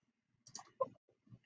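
Computer keyboard keys clicking while a screenshot is taken, a few quick soft clicks in a short burst followed by a couple of fainter taps in an otherwise quiet room.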